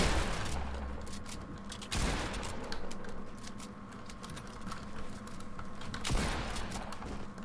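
Shots ring out in a Fortnite match, scattered cracks and short bursts of gunfire with a couple of heavier blasts, mixed with faint clicking, moderately loud and without speech.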